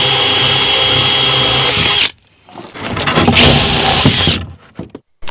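A power drill with a 1/2-inch spade bit bores through wood in two loud bursts. A steady high whine turns into a rougher chewing sound, with short pauses between bursts.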